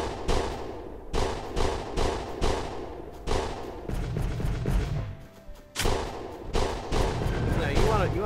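Cannons in the video game Planet Explorers fire in a rapid series of loud booming blasts, with a short lull midway before more shots and rumbling impacts, over faint background voice.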